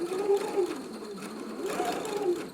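A sewing machine stitching a fly front zipper, back-stitching at the start and end, runs in short whirring bursts with a brief pause between them. It sounds close and clear.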